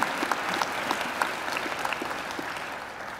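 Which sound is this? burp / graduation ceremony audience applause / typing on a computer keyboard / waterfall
graduation ceremony audience applause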